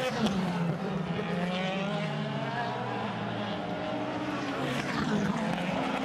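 A DTM touring race car at the Nürburgring passes with a sustained high engine roar whose pitch sweeps as it goes by, loud and continuous under faint commentary.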